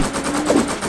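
Fast, steady automatic gunfire in a PvP video game match, a continuous rattling stream of shots at moderate loudness with no pauses and no voices.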